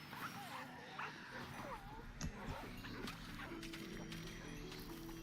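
Tamed dogs in Minecraft, fighting and taking damage in an ancient city on a hardcore world, give scattered yips, barks and whimpers amid steady game music and clattering in-game noise.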